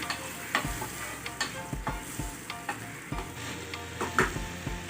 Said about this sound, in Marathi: दही टाकल्याबरोबर असं ढवळत राहायचं गॅस कमी करून